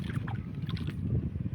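A boat moves on the water near the sea shore, giving a low, steady churning rumble with faint water sounds throughout.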